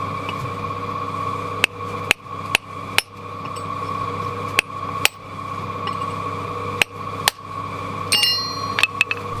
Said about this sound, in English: Now I'm just using a regular claw hammer to just kind of fettle the edge here.